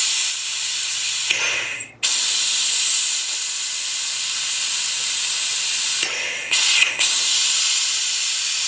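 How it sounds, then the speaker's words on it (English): Steady loud hiss of air and fluid escaping while a brake line is opened to bleed the brakes on a 1999 Ford Crown Victoria, broken by a couple of brief sharper bursts and dropouts. "Break it open, create a vacuum."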